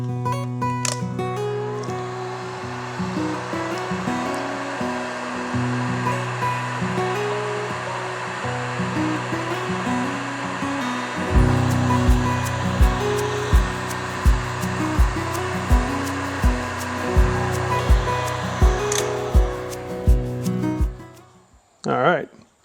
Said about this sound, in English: watch out for that heat gun, because it's going to be a bit spicy for a while